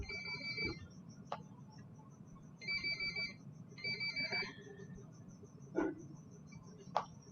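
Phone ringtone ringing during an online chemistry class, a repeating electronic melody in short bursts with gaps, moderately loud over faint background hiss and a few clicks.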